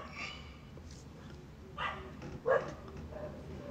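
Dogs bark a few times at a moderate distance, with short separate woofs and a louder one near the end, over a quiet indoor background.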